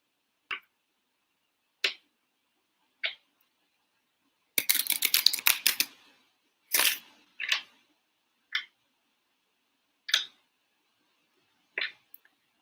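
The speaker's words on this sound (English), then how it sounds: "It's one more shuffle like this, and then one more shuffle, one more shuffle like this, and then we cut the deck." Tarot cards being shuffled and handled: a string of short, crisp riffling snaps spaced out with pauses, one longer dense flurry of rapid card flicks in the middle, all close and quiet with no talking.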